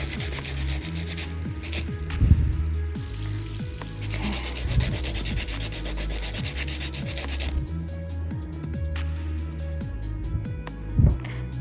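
A coarse 180-grit nail file rasps back and forth over layered acrylic nails in steady, close strokes, making a continuous gritty scraping with a few louder pushes and no talking.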